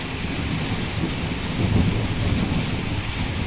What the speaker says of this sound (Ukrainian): дощ падає, падає